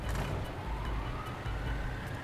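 Heavy truck engine in the snow-rescue driving game Snowrunner, a steady low rumbling roar that holds loud and continuous throughout with a faint rising whine on top.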